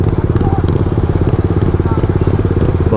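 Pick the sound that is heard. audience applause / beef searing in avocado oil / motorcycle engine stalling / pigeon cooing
motorcycle engine stalling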